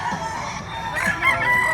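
Gamecock stag crowing close by at a farm in Padre Garcia, Batangas, one short strained call over faint background noise.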